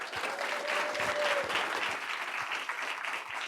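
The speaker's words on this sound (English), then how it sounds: "let's give our athletes, staff, and of course our parents a round of applause" A school board meeting audience applauds athletes, staff and parents, with steady dense clapping that holds at an even level throughout.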